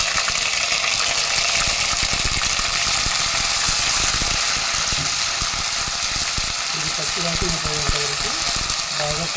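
Onions browning in a pan with ginger garlic paste for hotel-style aloo kurma, a loud continuous sizzle and crackle with scraping stirring clatter and brief faint voice in the background.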